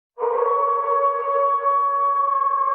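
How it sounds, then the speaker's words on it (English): A single long, steady howl that sounds like a wolf, loud and sustained for a few seconds and heard alone. "Did you hear that? That's the sound of wolves."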